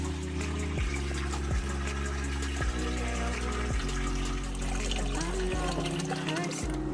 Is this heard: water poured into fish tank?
yes